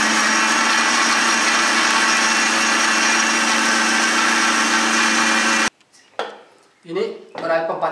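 A mixer grinder runs loud and steady for several seconds, blending boiled jackfruit seeds with their cooking water for a shake, then cuts off abruptly, followed by a few clinks and a voice speaking.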